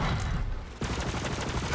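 A sniper rifle fires in the Borderlands video game: loud, close gunfire that dips briefly and then returns as a dense, rapid barrage of shots.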